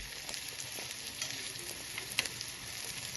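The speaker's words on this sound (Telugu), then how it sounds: "ఆనియన్స్ని చీలికలుగా కట్ చేసుకొని ఇలా డీప్ ఫ్రై చేసుకుంటే బాగుంటుంది" Sliced onions deep fry in oil for chicken dum biryani, giving a steady, fairly quiet bubbling hiss with scattered crackles and one sharper pop, with no talk over it.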